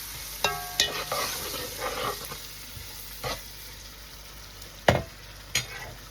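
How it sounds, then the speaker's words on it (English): Food being stirred in a cooking pan with salt added, giving a few scattered scraping and clinking strokes over a faint, steady sizzle, close and fairly quiet. "Then stir once more."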